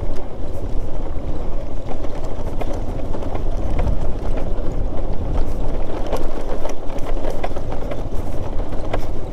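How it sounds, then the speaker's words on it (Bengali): A motorcycle engine braking in first gear on a steep downhill mountain road between Kalipokhari and Maipokhari toward Sandakphu, a steady loud rumbling drone with wind noise throughout. "গাড়ি এক গিয়ারে আছে,"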